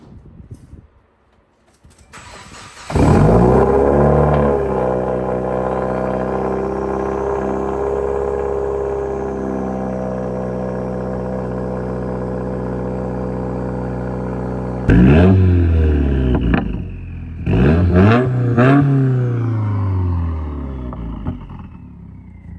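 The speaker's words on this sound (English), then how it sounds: "First cold start, baby." A Subaru WRX with a new Turboxs downpipe fires up on its first cold start, catching with a loud rumble into a steady high idle, then revving sharply a few times near the end, up close.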